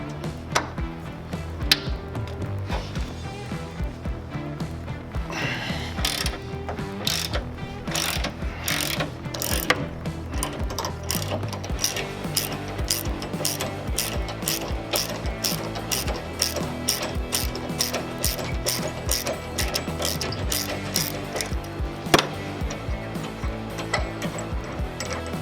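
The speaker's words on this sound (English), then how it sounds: "Next thing we're going to do is remove the bed bolt and the tie down." Ratchet wrench with a Torx socket, T40 or T55, loosening the bed bolts and tie-down on a Toyota Tacoma during a bed stiffener install: steady, rapid clicking runs close and continuous throughout, with a few sharper metallic knocks and no talking.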